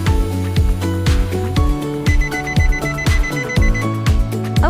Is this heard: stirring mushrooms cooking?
no